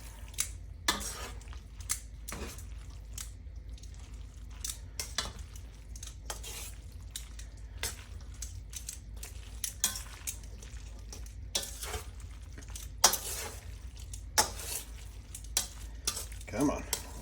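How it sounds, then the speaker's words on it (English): Metal tongs tossing pasta through amatriciana tomato sauce in a pan, with repeated clicking and scraping strokes over a low, steady background hum, near and fairly quiet, no voices. "get some tongs here to help with getting the sauce really mixed in"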